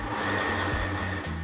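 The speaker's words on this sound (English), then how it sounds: "Time to blend the soup." A blender blending soup gives a steady motor whir that runs continuously at moderate loudness with a slightly shifting pitch, churning liquid without pause.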